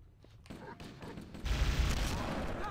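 A gun fires in a cursed mod of the shooter Halo CE, starting quietly and then breaking into a sustained, dense stream of loud shots with rumbling low end that keeps going to the end.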